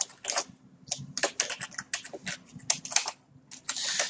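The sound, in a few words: typing on a computer keyboard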